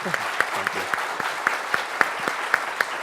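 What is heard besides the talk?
applause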